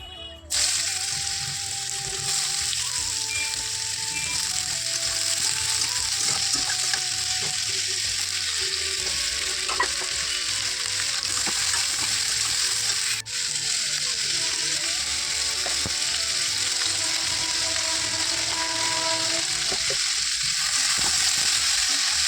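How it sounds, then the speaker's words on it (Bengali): Fish fries in a pan with a continuous close sizzle and spatter. A few faint clicks and a steady background hum sit beneath it, and there is almost no talk. "এখানে আমার মাছ ভাজাটা বসিয়ে দিয়েছি"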